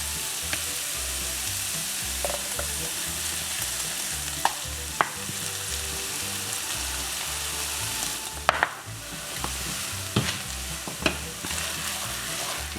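Ground meat for sloppy joes fries in a pan as ketchup is stirred in, making a continuous soft sizzle broken by scattered spoon scrapes and taps, with no voices.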